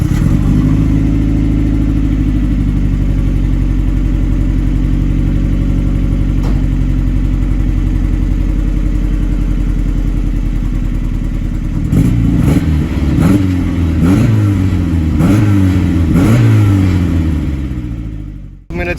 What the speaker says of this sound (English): I'm gonna take a ride in the FLYIN MIATA Turbo NB2.